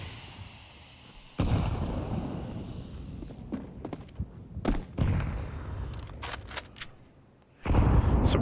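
Frag grenades in Counter-Strike 2 burst during a LAN tournament match, with a heavy blast, several sharper bangs and crackles, then another loud explosion close by.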